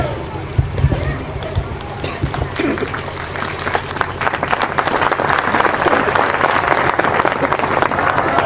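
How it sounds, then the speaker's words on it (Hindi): Applause from a crowd at a sant samagam religious gathering in Usarwahi village, dense clapping that builds and grows louder, with voices mixed in beneath. "जोरदार तालियों से अभिनंदन करिएगा।"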